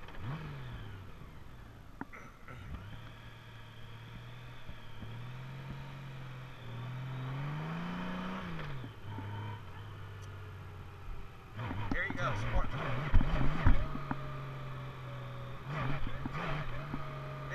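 A 2018+ Honda Gold Wing motorcycle revs and accelerates hard in sport mode, its engine note climbing and dropping through clear gear changes, moderately close and loud, with someone talking over parts of it.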